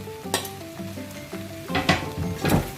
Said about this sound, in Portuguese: Agora vamos entrar com nossas cebolinhas de primavera e com nosso pimentão. E deixa eles cozinhar também um tempinho junto, tá?